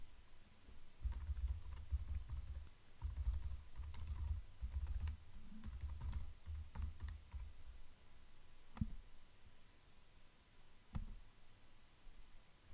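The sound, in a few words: typing email and password on computer keyboard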